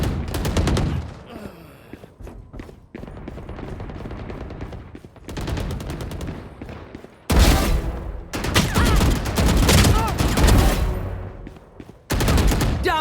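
Bursts of rapid automatic gunfire from enemies strafing in a video game, loud clattering volleys broken by short quiet gaps, with no voices over them.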